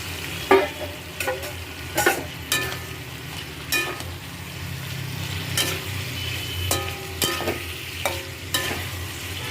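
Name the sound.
stir-frying fried potato and cauliflower in spice masala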